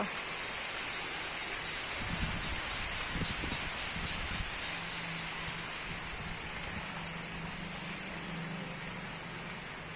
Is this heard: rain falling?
yes